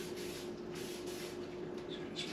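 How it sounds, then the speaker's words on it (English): Cooking spray hisses in short bursts onto a spatula in a home kitchen while making no-bake peanut butter balls, a soft, faint spray repeated several times. "spray my spatula"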